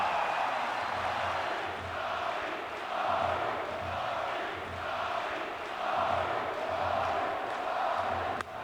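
A large Detroit baseball crowd at a home run derby cheering and chanting in steady swelling waves, with rhythmic pulses running through the sustained roar.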